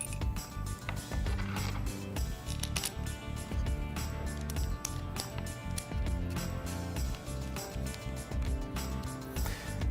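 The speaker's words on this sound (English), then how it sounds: "using a hex driver, bolt the two together" Hex driver tightening bolts on the rear of a Can-Am X3 side-by-side, loud continuous ratcheting clicks and mechanical whirring with metallic clinks, close up and busy throughout.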